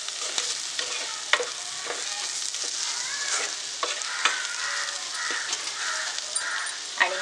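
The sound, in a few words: stirring and frying masala with salt in a pan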